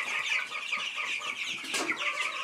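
Chickens clucking and calling in a backyard coop with meat birds, a rooster nearby, a bright, busy stream of bird calls that is moderately loud and close, with a sharper squawk near the middle.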